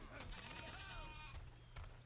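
Sheep bleating inside the video game Overlord, a few wavering cries rising and falling over a steady hum of game music and ambience, with a voice talking faintly in between.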